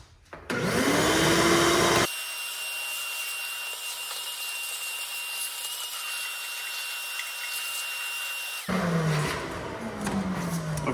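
A vacuum cleaner roars close by while cleaning out a MiniMax S45 bandsaw, its pitch shifting as the nozzle moves and is partly blocked, then opens up again near the end.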